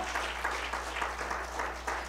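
A church congregation claps at a Christmas sermon, moderate and somewhat distant, with soft rhythmic pulses of hands through a reverberant room.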